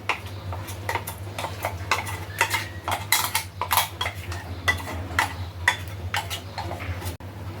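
A spoon works ground paste into a bowl of wheat flour, giving close, irregular clinks and taps against the bowl over a low background hum, with no talk.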